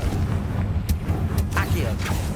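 Confringo blasting spell going off in Hogwarts Legacy, a few sharp booming bursts over a steady low rumble of game combat, with speech-like sounds mixed underneath.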